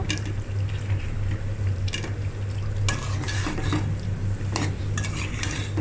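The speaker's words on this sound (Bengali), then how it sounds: "তো আমার মাংস আর আলু কষানো হয়ে গেছে" Beef and potatoes stirred in a pot with a spatula, steady scraping and clinking over a continuous low sizzle, with intermittent louder stirring strokes throughout.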